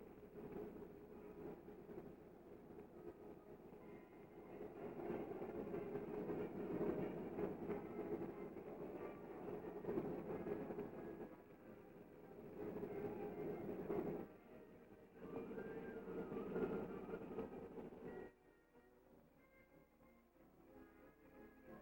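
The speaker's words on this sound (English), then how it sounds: "soon the train begins to roll" Low rumbling of a heavy Southern Pacific freight train starting to roll, its steady drone swelling and dipping over time before quieting toward the end.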